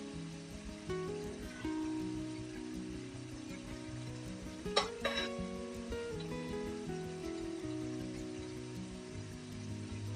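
Steady bubbling sizzle of small kachki fish simmering in mustard oil in a pan with green chillies, continuous throughout, with a brief sharp clatter midway.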